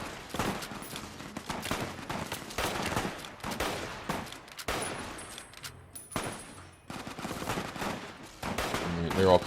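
Rapid gunfire sounds during a fight with an assassin squad in Fallout New Vegas, with dense bursts of shots and automatic fire going nearly nonstop and some brief pauses in between.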